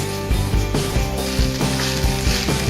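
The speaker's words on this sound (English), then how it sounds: "Put the flame high while mixing the rice." Fried rice with paneer sizzles and gets stirred in a pan over a high flame, a steady bright hiss under loud rhythmic background music.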